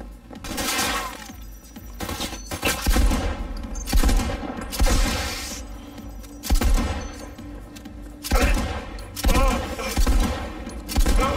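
Upgraded shotgun in Cyberpunk 2077 firing repeatedly, about eight loud, booming blasts spaced a second or so apart, each with a short crackling tail and no talk over them.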